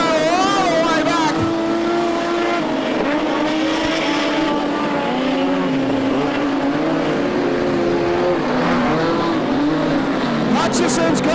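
Modified production race cars race side by side at Lismore Speedway at night, with loud, continuous engine roar and rising and falling revs from passing cars under a commentator's voice.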